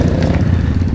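Motorcycle engine on the Maarat dirt trail in San Mateo, a loud, close, rough buzzing drone with a fast, uneven pulsing, running continuously with no voices.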